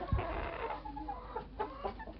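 Roosters and chickens clucking in a backyard farm poultry yard, a mix of short, throaty clucks and calls from several birds at moderate distance, with no talk.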